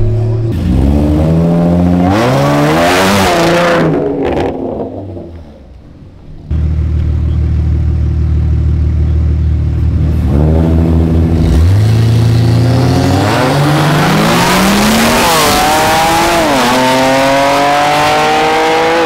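A nitrous-fed Cadillac ATS-V and a supercharged Jeep Trackhawk drag racing, with loud, close engines revving hard, a brief lull, then full-throttle acceleration roaring through gear changes.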